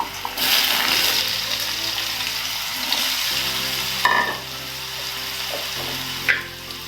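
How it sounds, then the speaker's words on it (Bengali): Potato pieces drop into hot oil and fry with a loud, close, bubbling sizzle that eases after a few seconds, with a couple of light clinks. "এখানে আমি গরম তেলে আলুগুলো দিয়ে দেব।"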